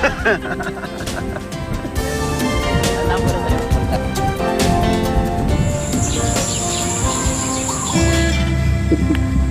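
Birds calling across the Candaba wetlands in Pampanga, a dense chorus of chirps and tweets layered with insect or cricket-like buzzing, continuous and fairly loud with some background voices mixed in.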